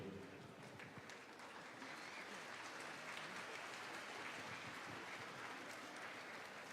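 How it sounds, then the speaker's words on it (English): Audience applause fills the hall at a long-life offering ceremony for the Dalai Lama: a distant, steady wash of many hands clapping throughout. "give another round of applause"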